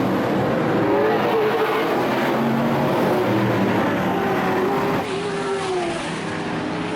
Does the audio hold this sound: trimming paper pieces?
no